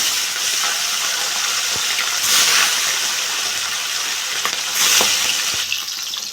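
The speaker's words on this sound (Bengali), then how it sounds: "মাছগুলো আমি একইভাবে ভেজে নেব।" Katla fish pieces sizzle and crackle steadily in hot oil in a home kitchen pan, a dense, continuous frying hiss with brief louder surges, close up, with no voices.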